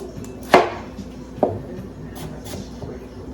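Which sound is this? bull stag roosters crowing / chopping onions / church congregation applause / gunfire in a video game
chopping onions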